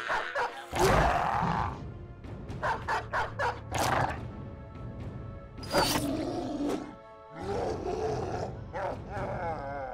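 Dog barking and snarling in the video game Battle Brothers, loud harsh bursts repeating through a busy battle soundscape with roaring growls, no talk over it.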